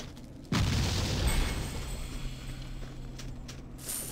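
Explosives detonated in the video game Torchlight II, one sudden deep boom that rolls into a long fading rumble, with faint game sounds afterward.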